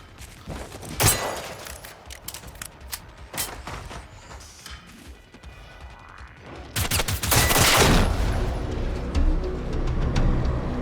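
Gunfire from the video game Generation Zero: scattered sharp shots and clattering bursts, loud and close, with mechanical rattles and a sustained heavy volley near the end.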